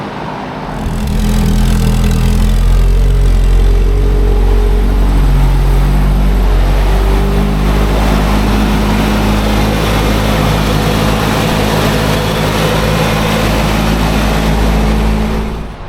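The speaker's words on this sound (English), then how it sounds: "We're setting the ignition timing, setting the idle, and then we'll be able to send it off for tuning." A supercharged, cammed NA Mazda Miata engine idles steadily up close, a loud low rumble with a constant throb that holds evenly for the whole stretch after a brief quieter start.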